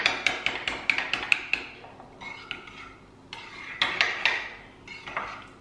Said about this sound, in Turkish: Şöyle bir kere karıştırayım hemen.